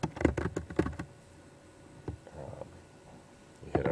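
Typing on a computer keyboard nearby, a quick cluster of key clicks, then a pause with a couple of isolated taps, and another short burst of keystrokes at the end.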